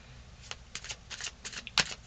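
Slippery tarot cards are shuffled by hand in a string of short, crisp riffling bursts with brief gaps between. Close and moderately loud, they sound alone with no voices.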